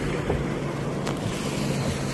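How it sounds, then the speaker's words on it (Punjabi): The Beas river rushes beneath the Naushera Pattan bridge on the Mukerian–Gurdaspur road in flood, a loud broad roaring wash mixed with gusty wind buffeting the microphone, steady throughout. "ਇਹ ਪਾਣੀ ਉੱਪਰੋਂ ਜਿੱਧਰੋਂ ਆ ਰਿਹਾ ਵਿਆਸ ਦਾ"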